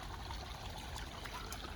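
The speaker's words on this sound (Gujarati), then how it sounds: "વાટિયામાં પાણી જાય છે" Irrigation water runs along a furrow into a banana plot, a steady close trickling and gurgling flow that holds even throughout with no talk over it.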